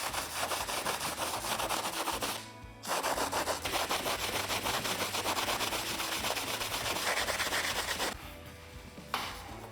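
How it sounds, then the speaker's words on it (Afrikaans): Steady, rhythmic rubbing of sandpaper over gold leaf on artwork, close and continuous, pausing twice briefly before resuming the same back-and-forth scraping. "So ek gaan net klein bietjie skuur oor my gold leaf."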